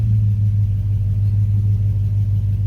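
Ford Falcon BA XR8 V8 engine idling just after a cold start, a loud, steady low rumble held close and even with no talk over it.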